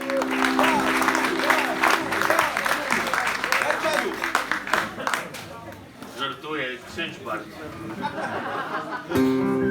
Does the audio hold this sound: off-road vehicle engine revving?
no